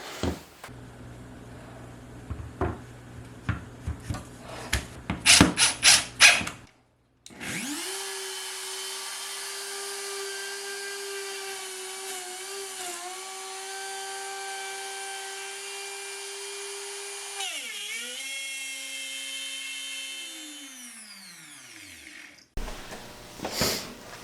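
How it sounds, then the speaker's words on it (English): A router cutting wood for a toddler mirror build gives a loud, steady, close high-pitched whine for about fifteen seconds, with brief dips in pitch, then winds down. Clattering shop noises come before it and after it. "The router kind of walked on me"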